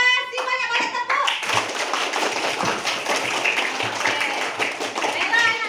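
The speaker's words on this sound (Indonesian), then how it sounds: "kalau luar biasa senang kasih banyak-banyak tepuk" Schoolchildren in an Indonesian classroom clap their hands in a long burst of many quick, overlapping claps. Voices can be heard at the start, and the clapping continues loud and steady throughout.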